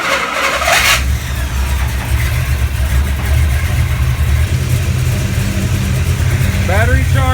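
A car engine runs steadily and loud with a low rumble, wired to a 1973-or-newer GM three-wire internally regulated alternator and failing to shut off through backfeed; a brief mechanical whir rises near the start.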